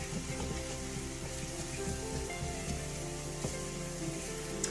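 Onions sweat and sizzle in a pan after brown bits are scraped from the bottom, a steady, close crackling hiss with faint pops and no talk throughout.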